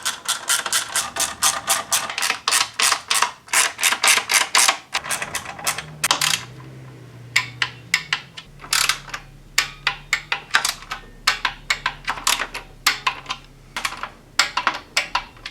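A torque wrench on the spark plugs of a Chrysler PT Cruiser, set to 9 foot-pounds, gives off crisp close ratcheting clicks. They come in fast regular bursts, stop briefly, then return as sparser single clicks.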